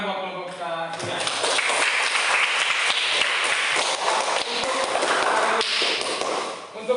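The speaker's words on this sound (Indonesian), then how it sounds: "tepuk tangan buat kelompok ketiga." Classroom of students applauding the third group after a presentation, a sustained burst of many hands clapping with scattered taps and shuffles, close and fairly loud, with brief voices at the start.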